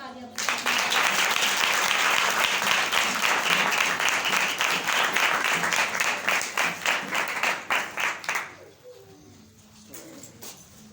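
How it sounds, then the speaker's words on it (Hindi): A congregation at a Christian prayer gathering bursts into loud, sustained applause that swells quickly, holds for several seconds, then thins into scattered claps and fades out. "आए फिर खुदावन के कलाम के लिए जोरदार तालियां बजाएं।"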